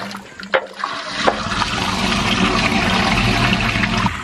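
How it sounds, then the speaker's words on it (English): Water gushing out of a field bioreactor in Iowa after its stoppers are pulled, a loud, steady rushing and splashing flow that builds after a few brief knocks and continues without break. "Now he pulled that up, so now all the water is free to run out."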